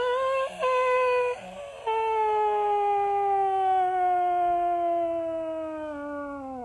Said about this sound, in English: When you hear that long ass siren.